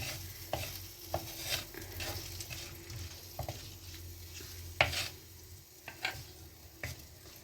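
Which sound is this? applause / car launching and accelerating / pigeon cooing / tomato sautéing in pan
tomato sautéing in pan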